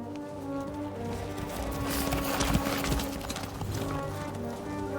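Horse hooves clip-clop in a steady trotting rhythm on a medieval road in the video game Kingdom Come: Deliverance II, close and clear over a soft ambient background.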